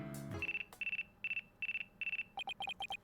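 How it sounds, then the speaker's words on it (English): A phone rings in the video game Ace Attorney Dual Destinies, a clean electronic tone pulsing in repeated short bursts, then quickening into rapid trilling chirps after a brief opening flourish. "Looks like I have a phone call."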